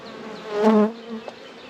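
Close buzzing of a honey bee at a hive, its droning hum rising and swelling briefly before fading, with faint extra buzzing behind it.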